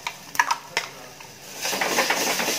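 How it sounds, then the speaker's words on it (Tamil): Ground paste of tomato, tamarind, pepper, cumin, garlic and horse gram being sautéed in a pan with turmeric and asafoetida: a few clinks of a utensil against the pan, then a steady soft sizzle close by, with no talking. "இப்போ நம்ம அரைச்சதை இதில் சேர்த்து நல்லா வதக்கிடலாம்."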